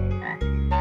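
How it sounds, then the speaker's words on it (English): A cartoon frog gives two loud, deep croaks close up, the second starting right after the first and holding steady, with no talk over them. "I think they've all turned into frogs, sir."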